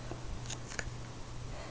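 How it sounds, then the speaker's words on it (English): Scissors snip open the airtight plastic bag packaging a Bedsure quilted mattress pad, giving two or three short, crisp cuts close by over a low steady hum, with no voices. "as soon as I cut the bag, it puffed up"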